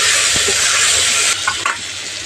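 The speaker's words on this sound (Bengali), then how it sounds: "এই তেলের মধ্যে দিচ্ছি হাফ চামচ লঙ্কার গুঁড়ো" Chili powder hitting hot oil already tempered with spices gives a loud, steady sizzle that runs throughout, with a few soft scrapes of stirring near the end.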